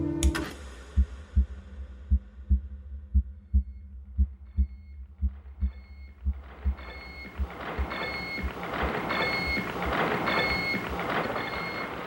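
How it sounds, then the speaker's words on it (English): The SAGE computer runs in a steady rhythm of low, regular thumping pulses. A dense electronic hum and tones build up and take over as the pulses fade. "You are listening to the heartbeat of the Sage computer."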